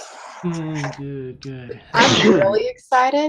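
A single sharp sneeze bursts out between stretches of cheerful conversation, loud and close, followed right away by more talking.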